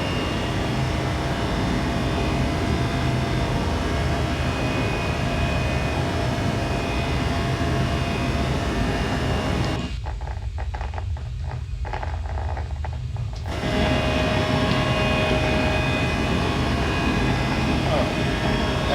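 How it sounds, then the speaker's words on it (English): Airbus A321 engines in the X-Plane 12 flight simulator give a continuous loud jet roar that cuts out abruptly for a few seconds midway, then resumes just as strongly. "my engines, as lovely as they sound to me, they're going to be too loud."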